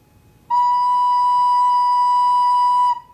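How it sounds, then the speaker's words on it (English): A single pure, steady whistle-like note held for about two and a half seconds on a recorder, clear and close, starting and stopping cleanly. "So here's our B on the recorder."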